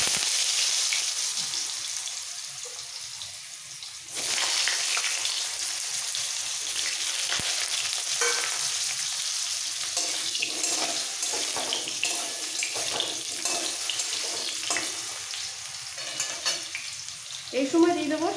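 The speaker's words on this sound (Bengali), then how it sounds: "ফুলকপি আর আলুটা আগে ভেজে নেব।" Cauliflower and potato fry in hot mustard oil, giving a continuous close sizzle and crackle with scattered stirring clatter and some watery, tap-like hiss throughout.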